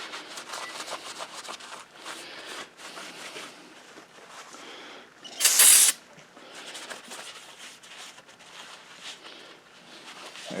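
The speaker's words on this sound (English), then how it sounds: "I'm just going to prep the block and the head here with just a little bit of brake parts cleaner" Brake parts cleaner sprayed onto the engine block and head of a Kohler Command V-twin engine build: one loud half-second hiss in the middle, surrounded by quieter rubbing and shop background noise.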